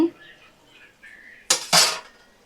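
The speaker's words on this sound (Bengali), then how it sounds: "দেখো আমি ঢাকাটা দেখো খুলে নিচ্ছি" A metal lid lifted off a cooking pot of bottle gourd simmering on a low flame, giving two short clattering clinks close by, with quiet kitchen noise before them.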